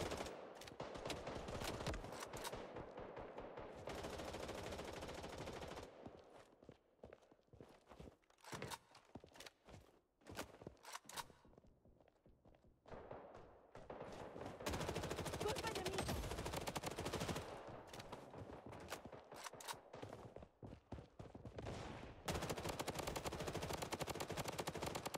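Gunfire in the mobile shooter game Blood Strike, with bursts of rapid automatic fire and single shots coming in clusters, interspersed with footsteps and quieter gaps, fairly loud and continuing through the whole stretch.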